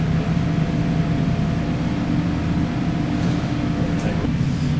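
Engine fitted with a new aftermarket ECU holds a steady RPM, producing a continuous, even, loud drone with a low rumbling hum and no change in pitch throughout.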